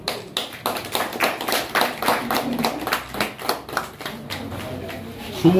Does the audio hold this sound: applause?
yes